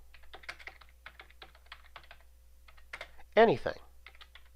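Computer keyboard typing in a drawing program's type tool, light clusters of keystrokes at a steady pace with a brief spoken word and a short clatter partway through.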